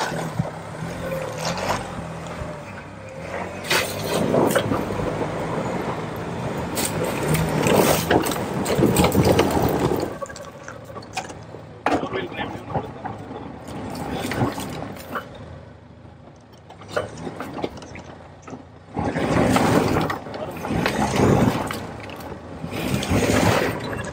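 An off-road SUV with automatic four-wheel drive climbs a loose dirt slope, its engine roaring in loud, surging bursts mixed with heavy wind buffeting across the mic, with no voices.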